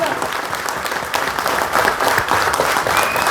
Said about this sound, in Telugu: లేచి నిలబడి చప్పట్లు కొట్టాలి 2 నిమిషాలు గట్టిగా గట్టిగా గట్టిగా.